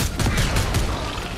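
Rapid bursts of gunfire from the game Fortnite, a dense crackling volley of shots with no talk.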